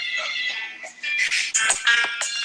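Phone ringtone playing a song, a bright melodic tune with layered tones and beats, fairly loud and close throughout with no talk over it.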